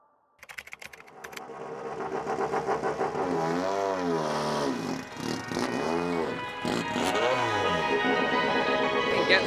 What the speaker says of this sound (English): Every time I hear a race car.